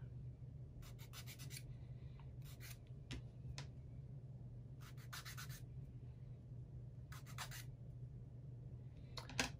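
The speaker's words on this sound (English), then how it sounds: "Both of those need to be sanded a little bit." Small wooden model parts from a Ugears cash register kit are sanded by hand in short rubbing bursts, quiet and close, with pauses between strokes over a faint steady hum.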